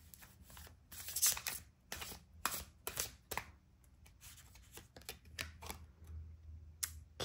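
Tarot cards being handled and shuffled up close, a series of crisp irregular flicks, taps and riffling rustles in a quiet room with no talking.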